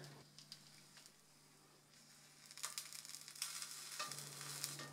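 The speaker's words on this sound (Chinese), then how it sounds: "用夹子把这个猪排竖起来，让它的4个边也都分别的煎一下" A breaded pork cordon bleu cutlet, stuffed with cheese, sizzles quietly in a shallow pan of oil as it is stood on its edges with tongs. The frying hiss is faint and steady, with a few louder crackling bursts toward the end.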